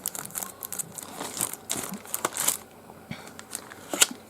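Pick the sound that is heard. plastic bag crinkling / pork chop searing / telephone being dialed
plastic bag crinkling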